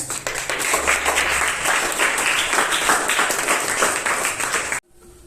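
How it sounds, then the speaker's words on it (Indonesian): A classroom of students bursts into loud, sustained clapping for about five seconds before it cuts off abruptly. "beri tepuk tangan"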